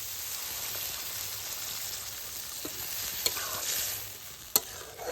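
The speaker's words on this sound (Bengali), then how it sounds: "সয়াবিনগুলিকে মশলার সঙ্গে কষিয়ে নেব।" Soybean chunks sautéing with spices in a pan give a steady, close sizzle under stirring, broken by a few sharp ladle taps against the pan.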